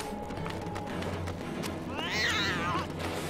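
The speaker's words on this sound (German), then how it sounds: "Geh weg, Katze!" A cat meows in LEGO Harry Potter, one rising then falling, close, clear meow over a steady game background hum, with faint clicks.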